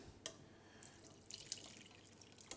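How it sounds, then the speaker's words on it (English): Red wine sauce poured through a fine sieve into a clean pan gives a faint, soft trickle broken by scattered drips and splashes, quiet and close with no talk. "we're just going to pour this in"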